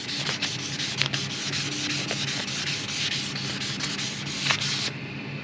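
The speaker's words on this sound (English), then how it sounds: "don't be afraid to get like a little sandpaper and just dust it up" Fine sandpaper rubs by hand across a fiberglass Rayglass boat hull near the waterline, a steady close raspy scrubbing with quick back-and-forth strokes and a few sharper scrapes, alone.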